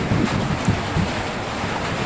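Heavy rain mixed with hail pouring down at a restaurant in Carignano, India, a dense, steady broadband wash with scattered thuds, fairly close and continuous, with no voices.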